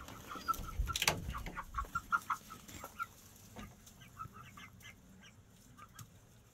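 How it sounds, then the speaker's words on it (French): Small meat chickens on a farm plot cluck and call in short bursts, with one louder fowl squawk early on, moderately close in hot daytime air with no talk. "j'ai mes petits poulets de viande aussi"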